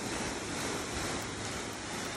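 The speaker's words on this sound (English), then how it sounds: "I'm going to spray water on the paint after I've treated it." Water sprayed onto treated paint of a 2015 Toyota Tundra CrewMax TRD pickup, a continuous broad hiss of spray hitting the surface, steady and fairly loud, with no voices.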